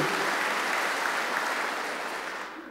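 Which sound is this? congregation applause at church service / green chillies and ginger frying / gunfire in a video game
congregation applause at church service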